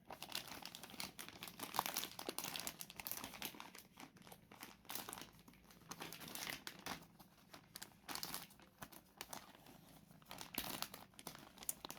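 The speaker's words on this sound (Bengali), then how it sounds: "আমি এক হাত দিয়ে কেবলটি ছিঁড়ে ফেলছি" A USB cable being torn apart by hand, a steady close crinkling and straining rustle with sharper cracking bursts throughout, quiet overall.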